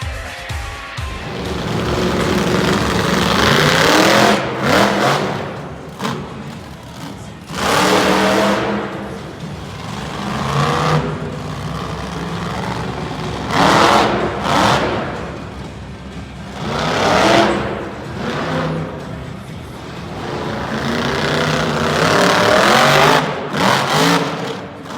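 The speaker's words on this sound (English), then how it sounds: "driving the iconic Spitfire monster truck" The Spitfire monster truck's engine revs hard again and again at an arena show, loud roaring bursts rising and falling in repeated waves over a continuous crowd-and-engine din.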